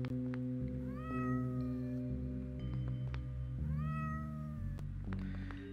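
Several cats meow over and over in the video game OneShot, their rising, wavering cries overlapping above a steady low musical drone, clear and close.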